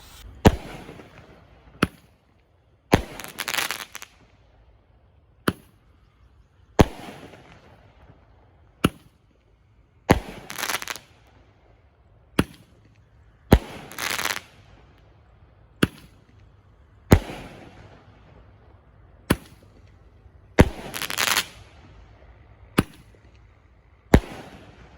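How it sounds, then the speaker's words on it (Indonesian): A 10-shot Roman candle firework lit and firing, with sharp loud bangs recurring at irregular intervals of roughly one to two seconds, each followed by a brief crackling hiss; no talking. "Oke guys, Roman Candle 10 shot siap kita nyalakan ya."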